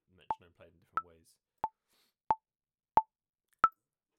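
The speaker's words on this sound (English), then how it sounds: "You can change the sound of the metronome as well." Sharp, evenly spaced metronome clicks from drum sequencing software, six short plops about two-thirds of a second apart, with a voice briefly talking over the first couple.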